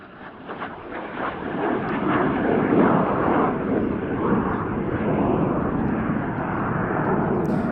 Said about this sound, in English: A much older jet fighter now, the Cessna A-37 Dragonfly of the Temora Aviation Museum